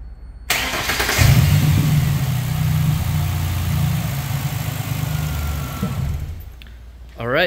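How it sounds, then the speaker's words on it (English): A 2011 Ford Ranger with a 4-liter engine cranks and catches, then settles into a steady, loud idle for several seconds before a short voice at the end. "Start up for you real quick."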